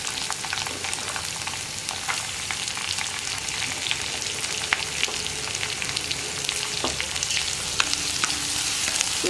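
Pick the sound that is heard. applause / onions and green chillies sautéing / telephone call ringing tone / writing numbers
onions and green chillies sautéing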